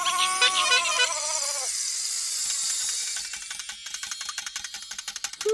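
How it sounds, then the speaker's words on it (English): A whisk whizzes around inside a bowl as a rapid, steady run of scraping clicks, close and moderately loud, coming after a short burst of cheerful music. "It's a whisk whizzing in a bowl."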